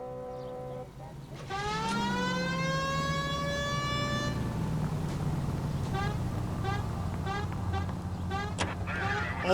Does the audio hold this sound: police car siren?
yes